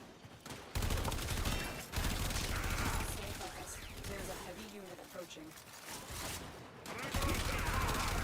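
The AX-52 gun in the video game Warframe fires dense, continuous rapid bursts that fill the whole stretch, broken by a couple of short pauses. A player talks over the gunfire.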